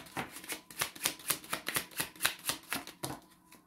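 Tarot cards riffled in a steady rhythmic shuffle, about a dozen crisp flutters close up and fairly quiet, ending with a few lighter taps as cards are drawn; no voices.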